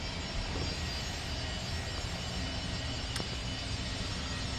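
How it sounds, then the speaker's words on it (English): Jet aircraft passing overhead, a steady broadband roar that stays loud and constant throughout, with no talk. "I'm going to have to turn off the camera here as this jet comes around"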